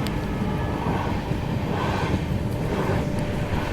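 Mysuru Swarna Jayanti weekly superfast train on the run toward Satara, a steady, dense rumble with rolling low-end clatter that holds at an even level throughout, with no voices.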